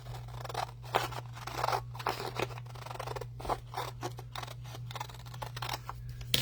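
Scissors snip through paper in a quick series of crisp, close cuts, each a short crunchy slice, with a low steady hum running underneath.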